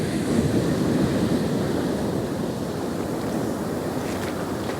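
Heavy sea swell crashes against the cliffs of the Holderness Coast in the UK, a steady, loud roar of breaking surf with wind buffeting the microphone and no voices.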